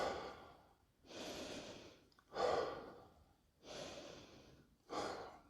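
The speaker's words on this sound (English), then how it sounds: "I'm still counting my recovery breaths" Five slow, deep recovery breaths after an exercise set during a meditative fitness workout, each a close, airy inhale or exhale separated by brief quiet pauses.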